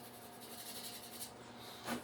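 A pencil shading a skull drawing on paper makes a faint, continuous soft rubbing scratch close by, steady throughout with a slightly firmer stroke near the end.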